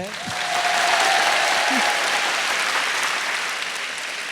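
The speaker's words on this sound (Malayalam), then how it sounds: "വിമലിന് ഒരു ബിഗ് ക്ലാപ്പ് കൊടുത്തേ" An audience bursts into applause for a student named Vimal at a campus talk, a dense, steady wash of clapping that swells quickly and holds loud throughout, with a brief voice near the start.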